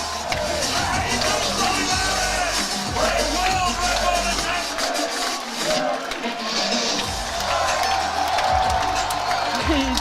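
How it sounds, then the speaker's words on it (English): Arena crowd at a strongman competition in Sheffield, a dense, loud wall of voices chanting and cheering continuously throughout, with a commentator talking over it. "Here it comes, and the crowd chants Jesus."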